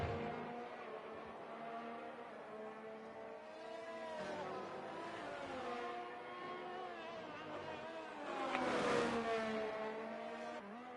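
Alfa Romeo race car from a racing video game on a lap of Bahrain, its engine note rising and falling through gear changes and corners, a steady loud drone building to a harder surge near the end.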